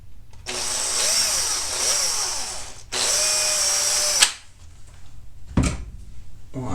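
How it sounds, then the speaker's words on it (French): A power drill bores a 3 mm hole in a part of a Bruder Cat compactor model kit, running in two steady whining bursts of about two and four seconds, with a pause between them, followed by quieter handling clatter. "Et donc ici il faut percer en 3 mm."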